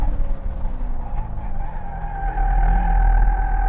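A Chevrolet Corvette C7 Z06 accelerates hard down a race track's back straight, the engine's drone rising steadily and loud, with tire noise and wind roar building toward the end.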